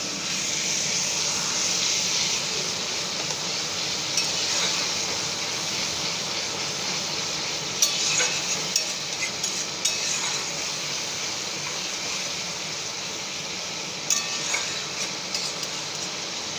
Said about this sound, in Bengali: মশলা কষাবার সময় সামান্য জল দেব।